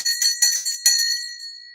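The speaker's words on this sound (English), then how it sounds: "Time to shake that bell." A small bell shaken several times in quick succession, bright ringing strikes followed by a long fading tone, close and clear with no talking.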